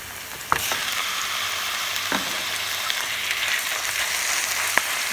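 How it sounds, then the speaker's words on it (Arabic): Ground beef and onion fry together in a pan over a gas flame for tacos, giving a steady close sizzle with a few sharp scraping stirs of the spoon, no voices. "بقلي اللحمة والبصلة مع بعض"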